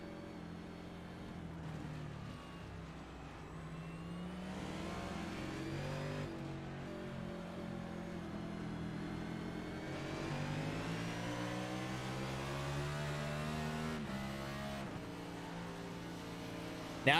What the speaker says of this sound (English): Take a look at the roof cam from John Elkins' car in third position